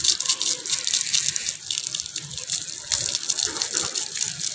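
Water gushes and splashes over newly laid bricks at a home construction site, a steady close rush of spraying liquid that keeps going throughout.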